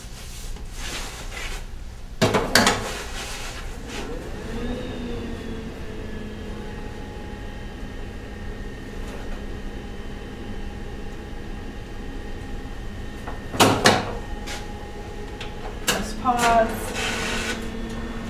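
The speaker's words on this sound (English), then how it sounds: "I just want to load this in the printer." An inkjet printer loads and feeds a sheet of Arches Cover black paper coated with inkAID iridescent inkjet coating, giving a steady mechanical whir with roller hums and a few sharp clunks and rattles at the start, middle and end.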